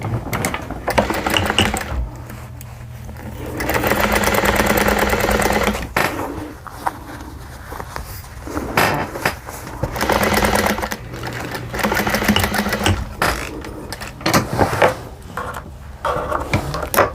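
Sewing machine stitching a fabric seam on an embroidered hexagon table runner, running in bursts of rapid mechanical chatter with pauses and small clicks between runs, close up.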